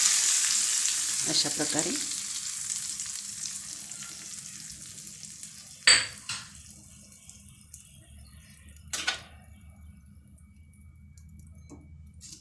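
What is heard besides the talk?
hot tadka (tempering) poured over mixed dal batter, sizzling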